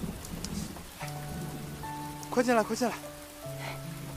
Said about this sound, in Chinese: 这雨什么时候能停啊